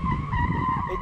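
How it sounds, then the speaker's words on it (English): A Mercedes-AMG A45 S in drift mode skids its tires in one short, steady squeal with a constant whine and engine rumble underneath, moderately loud and heard alone. "It definitely drifts."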